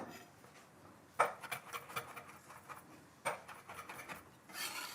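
Lemon zest grated off the yellow rind for a breadcrumb seasoning: faint, close rasping strokes with a couple of sharper scraping bursts between quieter stretches, no voices.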